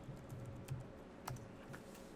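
Soft, sparse keyboard clicks, a few scattered keystrokes over a low steady room hum, quiet and close.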